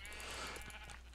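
Short sheep bleat in the video game Minecraft, a soft wavering cry heard quietly over a steady low hum of game background.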